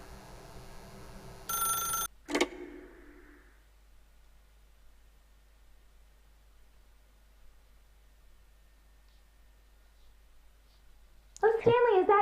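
An old-style telephone in the video game The Stanley Parable gives a short burst of loud electric bell ringing, then a sharp click before a long near-silent hush, and a voice begins at the end.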